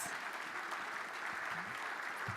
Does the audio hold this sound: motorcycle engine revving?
no